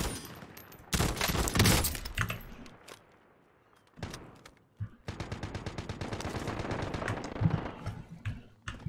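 Automatic weapon fire in the video game Warzone: sharp rapid bursts, a long rattling volley near the start, scattered single shots, then a sustained stretch of fast repeated fire, close and loud.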